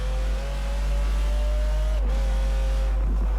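A Ferrari's engine revs hard and steadily in the Forza Horizon 4 racing game during a Formula D seasonal event, a loud sustained drone rising in pitch before a brief shift and continuing.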